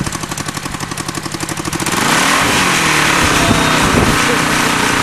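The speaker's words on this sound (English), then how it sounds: "Push clutch all the way forward. Give her some gas." A small go-kart engine putters in quick, even pulses, then roars into a loud, sustained rev once gas is given, and the sound stays close and continuous.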